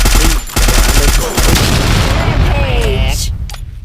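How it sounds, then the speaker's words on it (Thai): Gunfire in a shooter game rattles in rapid, loud automatic bursts up close, then tapers into quieter game sounds, with a voice briefly heard. "แล้วใครมันยิงอะไรตรงนี้วะเฮ้ย"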